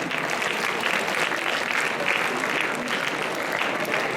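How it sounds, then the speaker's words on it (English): An audience at a school goodwill club program bursts into dense, continuous applause, loud and close, holding steady for a few seconds. "Round of applause,"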